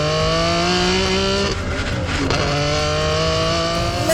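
A Ferrari Enzo's engine howls loudly and steadily as it climbs through the gears, its pitch rising through each gear, briefly breaking at a shift, then rising again.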